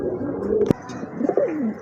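A female pigeon in a pair of pet pigeons coos in low, warbling phrases, close by, broken once by a sharp knock partway through.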